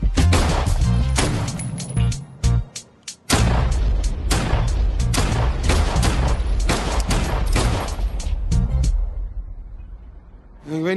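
A long, rapid string of loud, close gunshots, cracking in dense repeated bursts with a brief gap near the start, before the firing stops and the clip ends near-silent.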